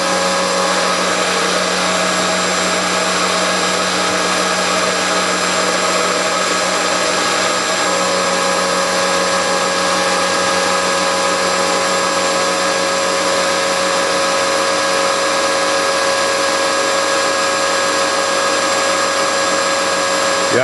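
A milling machine cuts steadily while an air nozzle blows on the work, producing a loud continuous mechanical whine and rushing hiss with layered steady tones, unchanging throughout and without speech.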